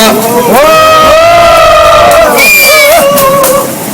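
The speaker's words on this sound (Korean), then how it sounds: "큰 함성으로 모셔보도록 하겠습니다." A crowd at a rainy candlelight rally in Yeoju roars and shouts loudly in sustained cheering, voices rising together for several seconds and close to the microphone.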